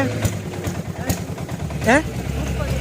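A diesel engine left running without being switched off, idling with a steady low, rhythmic chugging throughout, with a brief rising whine and background voices over it.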